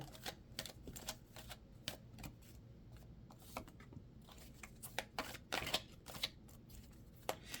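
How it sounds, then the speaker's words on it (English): Tarot cards being shuffled and drawn at close range, a quiet series of sharp papery snaps and riffles in an irregular rhythm, with no voices. "I am going to draw 3 cards here."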